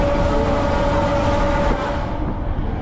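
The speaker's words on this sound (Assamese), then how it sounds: "আমি মানে একদম ইঞ্জিনৰ লগত আছোঁ। তো আৱাজটো মানে বহুত বেছি হৈ আছে, একদম ইঞ্জিনৰ লগত।" A local train engine running at speed, heard from right beside the locomotive: a loud, continuous rumbling roar with steady rail clatter and a sustained tonal whine, filling the whole clip with no talking.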